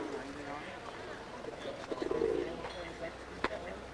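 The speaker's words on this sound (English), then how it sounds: "This is the private life of pigeons." Pigeons coo in soft, low, rolling calls during courtship, close by under steady outdoor background noise, with a brief sharper chirp near the end.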